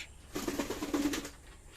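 A single soft pigeon coo, low and throaty, rises briefly and fades, quiet and close with faint background hiss.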